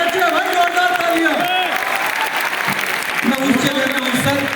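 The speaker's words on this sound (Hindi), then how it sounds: "बहुत अच्छे भाई, जोरदार तालियां।" Enthusiastic crowd clapping at a poetry recital in a university hall, a sustained wash of applause with a few cheers while people talk over it.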